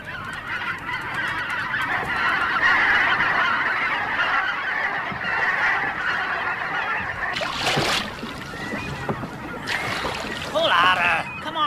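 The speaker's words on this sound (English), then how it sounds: "Now, the brent goose was ever alert to danger and ready to cry alarm." Brent geese honking an alarm cry on an estuary, a loud continuous flock clamor of nasal calls with a few sharper honks standing out near the end.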